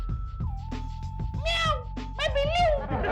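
A person imitates a cat's meow in a Hindi TV comedy, giving two drawn-out, rising-and-falling meows close up, over a steady background tone, with other voices speaking nearby.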